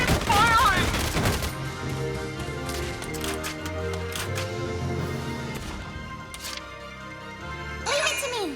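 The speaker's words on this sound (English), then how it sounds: "Keep firing!" Bursts of gunfire in the video game Valkyria Chronicles 4, a beach battle scene, sustained and mid-distance under game voices and music, with a louder crackle at the start and again near the end.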